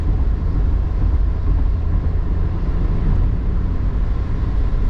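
Cabin noise from a Toyota Yaris 1.0 petrol car cruising at 90 km/h, a constant low rumble of engine and road drone, loud and steady throughout with no speech.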